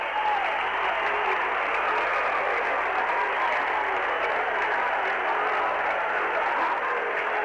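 A packed gym crowd roars and applauds after an upset win in the Rockford Boylan vs. Chicago King varsity boys basketball game: a dense, loud, steady wall of cheering and clapping that holds for the whole stretch with no letup.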